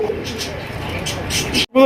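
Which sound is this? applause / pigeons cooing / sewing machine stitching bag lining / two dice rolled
pigeons cooing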